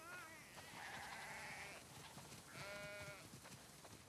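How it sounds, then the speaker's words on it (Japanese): Sheep in The Last of Us Part II give two drawn-out bleats, one after the other with a short gap between, quiet and set against a low background of game ambience. "羊がたくさん。"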